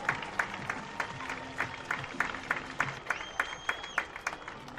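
Crowd applause at a high school football game for a sports hall of fame induction at the stadium, scattered distinct claps at a distance with a faint tone sounding through.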